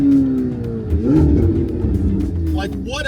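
A sports car engine, either a C8 Z06 or a Porsche 911 GT3, drops its pitch on a downshift and then rises again in loud, close revving blips. Speech runs over the sound near the end.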